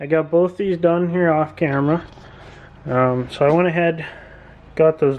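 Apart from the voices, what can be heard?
No distinct noise like a dog, phone or traffic.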